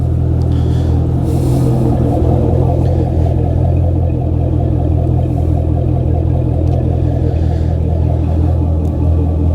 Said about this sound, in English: Get a quick little sound clip of the exhaust note.